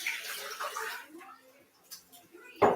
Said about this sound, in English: So what I do is I just start adding water into there.